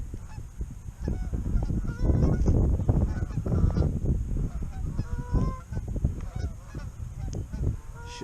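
A flock of geese honks repeatedly as it flies overhead on an early-season duck hunt, with overlapping calls rising and falling, loud and close for several seconds over outdoor background noise.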